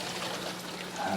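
A reef tank auto top-off pump feeds water from a reservoir through tubing tied to an overflow pipe into the sump, giving a steady close trickle and pour that swells slightly at the end.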